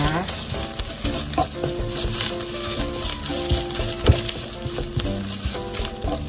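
Red curry paste stir-fried in a wok, a loud, continuous close sizzle broken by frequent scraping strokes of a spatula against the metal, with an occasional sharper clack, no voices.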